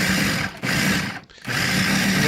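A blender motor kneads pizza dough with a loud, strained high whine that stops briefly twice before resuming, close and alone.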